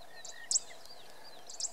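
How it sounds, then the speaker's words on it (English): Zitting cisticolas in the Pilanesberg give sharp, high ticking calls, a few short clicks spaced apart over faint insect-like background hiss. "These are zitting cisticolas."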